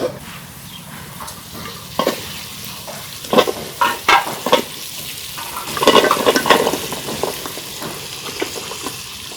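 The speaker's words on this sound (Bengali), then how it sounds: "মাছটা কষান হয়েছে এখন আমি ডাঙ্গুগুলো দিয়ে দেবো" Fish sizzles steadily in a pan as amon dangu stems are added, with intermittent scraping and stirring bursts over the constant frying hiss.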